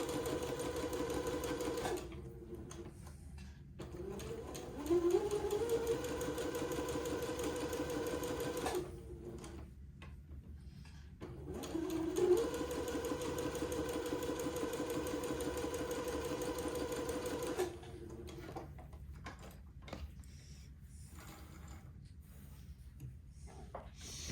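A sewing machine runs basting stitches along the bottom edge of a dress sleeve in several steady whirring bursts separated by pauses, close and fairly quiet, with no one speaking.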